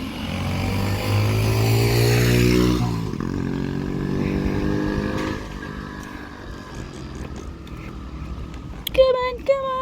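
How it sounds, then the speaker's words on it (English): A motorbike passes on a hot street in the Philippines, its engine droning loudly and near for a few seconds before fading into quieter traffic hum, with a brief sharp squeal at the end. "There's motorbike."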